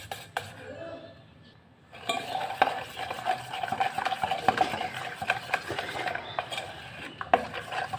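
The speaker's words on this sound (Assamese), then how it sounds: "মই হাতেৰে মিক্স কৰিছোঁ" Cake batter ingredients are mixed by hand in a bowl, a soft, close scraping and stirring that starts after a short pause and keeps going in uneven strokes.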